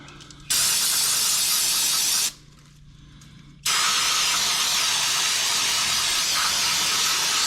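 Brake cleaner from an aerosol can blasts onto an ATV axle, a loud close hissing spray in two long bursts broken by a short pause.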